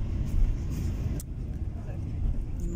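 Steady low rumble of a car interior on the drive to the airport in Turkey, engine and road noise constant throughout with a brief sharp click near the middle.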